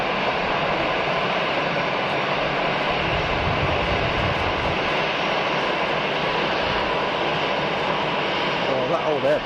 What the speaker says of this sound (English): Oh, that old Airbus is noisy.